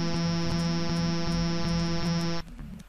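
A steady, buzzing electronic glitch hum from a faulty SNES cartridge of The Lion King drones loud and unbroken for over two seconds, then cuts off abruptly, leaving quieter game sound.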